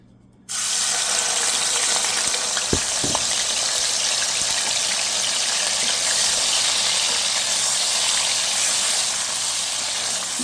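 Onion and garlic paste hits hot oil in a pan with a sudden, loud sizzle that settles into a steady, close hiss of frying, with a couple of faint clicks and no talk.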